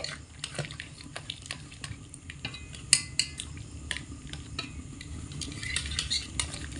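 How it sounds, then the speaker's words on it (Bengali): Minced keema being stirred into a gravy in a pan, with a spoon scraping and clinking against the metal in an irregular rhythm over a low simmering sizzle. "এরকম একটু ঘেটে ঘেটে সমস্ত ঝোলের সঙ্গে কিমাটা মিশিয়ে নিতে হবে"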